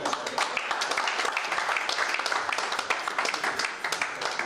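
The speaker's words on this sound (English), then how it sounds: "Clap for our General Secretary" Audience applause for the General Secretary of the Nigeria Football Federation at a Nigeria National League award ceremony: steady dense clapping from a crowd throughout, moderately loud with no voice above it.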